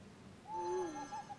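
A hoot from the owl card in Hearthstone, a single short, mellow two-toned call with a fading tail, clear and alone over a quiet background.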